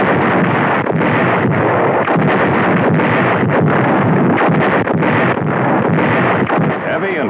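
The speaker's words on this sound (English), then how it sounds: "Heavy and well-directed naval gunfire played an important part in holding back the enemy tide." Heavy naval artillery booms rumble continuously with a dense, wind-like roar, steady and loud, no clear gaps between blasts, during World War II fighting at Anzio.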